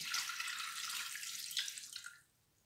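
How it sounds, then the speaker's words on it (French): Water, 220 g of it, is poured into a greased salad bowl for homemade pizza dough, giving a steady, close hiss and splash that cuts off near the end, and nobody speaks. "Ensuite, on va venir mettre l'eau."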